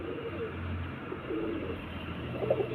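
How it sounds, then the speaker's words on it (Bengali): Low, soft coos from Kalshira pigeons murmur steadily in the background, with faint rustling and no speech. "এই যে এটা হচ্ছে কিন্তু কালশিরা পশ্চিমা পায়রা"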